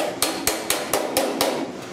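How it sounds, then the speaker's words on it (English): A hammer strikes against a dolly on a MIG weld in the rusted upper cowl of a 1969 Chevy C10 truck: seven sharp metallic blows in an even, quick rhythm, close and loud. "You want hammer on dolly that stretches those welds back out"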